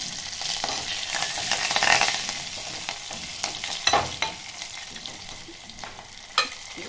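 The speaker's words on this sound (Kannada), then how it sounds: "ಈಗ ನೋಡಿ ಎಣ್ಣೆಯಲ್ಲಿ ಫ್ರೈ ಆಗುತ್ತಪ್ಪ" Garlic and curry leaves frying in hot oil, a constant crackling sizzle broken by sharp stirring clicks and scrapes of a spoon against the pan.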